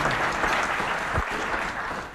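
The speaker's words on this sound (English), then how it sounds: "So let's give them a round of applause." An audience at a governor's broadband program announcement claps in a dense, sustained round of applause that fills the room, heard near and loud with no clear voices on top.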